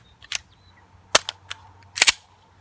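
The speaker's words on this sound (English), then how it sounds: "let's bust out our last 16 rounds" A Diamondback AM2 pistol fires about five sharp gunshots outdoors, singles and a quick double, loud and crisp with short gaps between.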